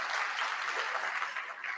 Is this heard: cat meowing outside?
no